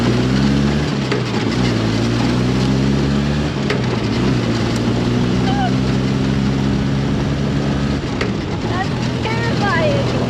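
A vehicle engine runs steadily in first gear at low speed, a constant low drone with harmonic hum filling the clip, while people talk over it.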